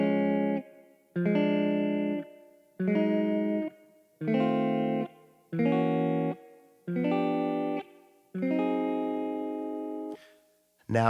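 Electric guitar with effects plays an F dominant chord shape walked slowly up the neck in a gospel style, seven sustained strummed chords at an even, unhurried pace, loud and clear with no talking.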